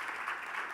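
Brief burst of audience applause for a digital financial services panel at a summit, a steady wash of clapping from a modest crowd, fairly soft and distant.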